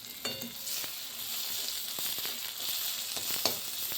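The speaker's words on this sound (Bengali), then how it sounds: "এখন এই পেঁয়াজটা ভাজা করে দিচ্ছি" Onions fry in a hot pan with a continuous crackling sizzle, close up, broken by a few sharp clicks of a spatula being stirred through them.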